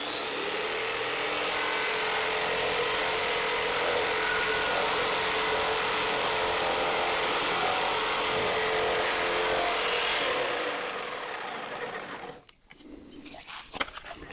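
A jigsaw cuts through melamine board with a loud, steady, buzzing whine that runs close up for about ten seconds, then winds down as the motor stops, followed by a few light knocks.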